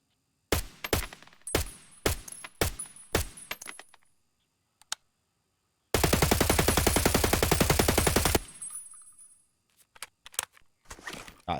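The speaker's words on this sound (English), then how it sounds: "We're going to show single fire and then full auto on both the weapons" In Escape from Tarkov, an AK-101 rifle fires about half a dozen sharp single shots, then a sustained full-auto burst of roughly two seconds. Shell-like metallic clinks follow each part, and a few scattered shots end the sequence.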